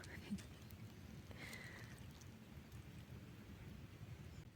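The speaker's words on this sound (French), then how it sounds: "Il y a beaucoup de vent aujourd'hui." Strong wind blustering outdoors in a continuous rumbling roar, with faint scattered rustles and occasional distant murmuring.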